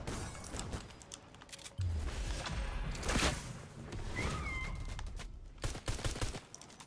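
Gunfire in the video game Fortnite comes as bursts of rapid shots and booms over a dense, busy game soundscape, with a short tonal electronic chime partway through.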